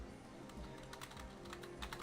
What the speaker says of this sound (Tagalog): Ay, nagtatype ako, buisit.